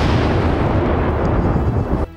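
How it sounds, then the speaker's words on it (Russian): A single loud, heavy 120 mm mortar blast fills the clip with a broad low rumble, then cuts off abruptly near the end. "Миномет, выстрел."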